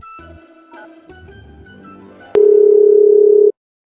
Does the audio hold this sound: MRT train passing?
no